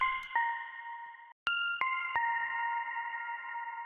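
High synth melody for a drum and bass track, drenched in reverb and compression: a few bright, sustained notes, each struck with a sharp attack and ringing out long, with a brief gap midway, heard alone.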